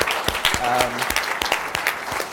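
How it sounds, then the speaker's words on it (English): A short burst of audience applause for the host and sponsor at an opening session, dense clapping spread across the room with some voices mixed in. "we want to give them a big round of applause"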